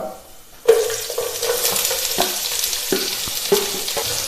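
Two small-chopped onions hit hot ghee with spices over a medium flame for masala rice, bursting into a loud, close sizzle that holds steady, broken by the scrape and clatter of stirring.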